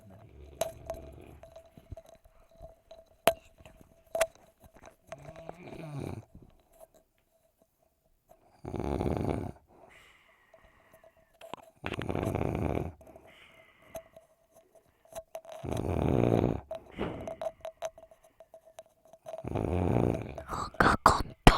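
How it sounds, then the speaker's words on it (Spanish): A heavy man snores loudly in long, rasping breaths about every three to four seconds, close by, separated by quiet pauses and a few faint rustles. "Ronca con todo, papá."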